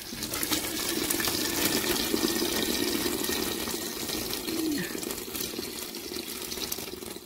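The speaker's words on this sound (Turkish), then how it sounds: "Sıcak suyumuzu da döküyoruz kettle'ımızda." Hot water pours steadily from a kettle into a pot for stuffed tripe or mumbar dolması, a continuous close gushing splash that holds even and fairly loud throughout, with no talking.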